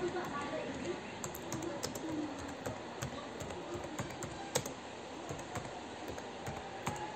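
Keys clatter on a computer keyboard while text is entered into MS Paint, a steady patter of quiet clicks over a soft room hiss, with faint bird cooing in the background.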